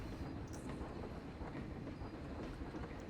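Continuous rumble and clatter of a train ride in a theme park video game, steady and loud throughout with faint rhythmic clicks over the wheels, no voices.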